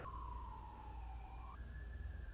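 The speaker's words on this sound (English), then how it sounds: "I try to never get desensitized to the sound of sirens" A faint, distant siren wails steadily, its pitch sliding down then jumping up, over a low background hum.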